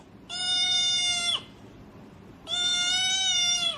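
A cat gives two loud, close, drawn-out meows with a short pause between them, each bending downward at the end.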